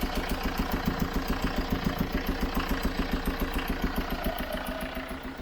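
A Chevrolet Tracker engine idles steadily with an even, pulsing rhythm, close and moderately loud, with no voices present.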